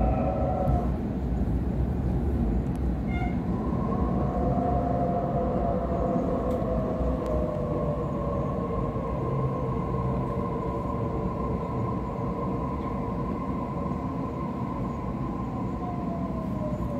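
Sydney Trains Waratah A Set electric train with two-level Hitachi IGBT traction running between Central and Town Hall, a loud continuous rumble with rising and falling motor tones sweeping across the run.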